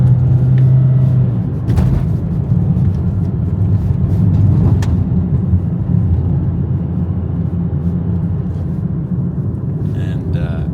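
A 1999 Toyota Caldina G 4WD wagon engine pulls up a big hill, a loud steady low drone and rumble heard from inside the car, with someone talking over it.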